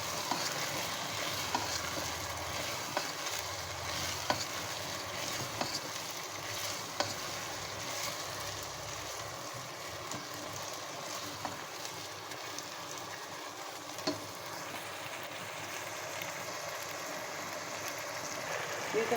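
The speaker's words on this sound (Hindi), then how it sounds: "बेल पेपर, इसको अच्छे से फ्राई कर लेंगे।" Green onion, red chili and bell pepper fry together for Thai chicken, giving a continuous even sizzle with faint clicking stirs that runs unbroken for the whole stretch.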